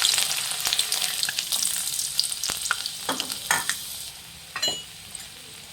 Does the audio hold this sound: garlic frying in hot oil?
yes